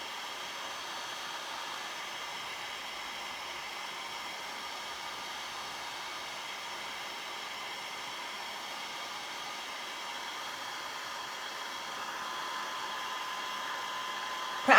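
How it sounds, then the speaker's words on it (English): A heat tool blows hot air onto a craft project in a continuous, steady, hair-dryer-like whoosh that holds evenly throughout and rises slightly near the end. "Maybe I just have to keep the heat tool on it a bit longer."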